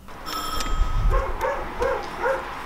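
A dog barks indoors at home in a short series of four or five sharp, yelping barks. They sound moderately close, with some low rumbling movement in the background.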